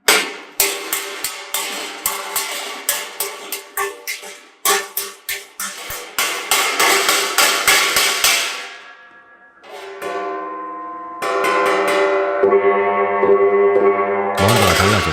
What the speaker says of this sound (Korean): 망치로 때리고 소리를 듣는 과정을 반복할수록 징의 소리는 점점 좋아집니다